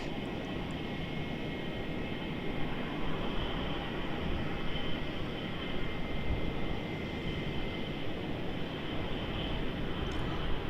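A Jetstar airliner comes in to land on runway 34 at Melbourne Airport. Its steady broadband jet roar carries over the open air from a moderate distance and holds fairly constant throughout.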